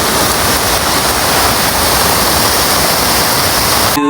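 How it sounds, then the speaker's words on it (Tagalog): Floodwater surging near a hanging bridge, a loud, dense, unbroken roar of rushing water filling the whole stretch, close and steady, cutting off abruptly at the end. "Wala na, baha na naman."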